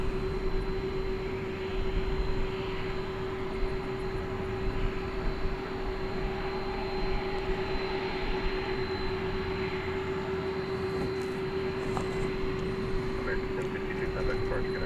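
A jet airliner at DFW Airport at night makes a steady, unbroken engine drone with a constant whining tone held over a broad rumble, moderately loud and distant, running the whole stretch.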